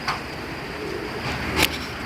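Pigeons at a busy pigeon market, with a faint soft coo and a brief wing flutter standing out over a steady murmur of crowd and background noise.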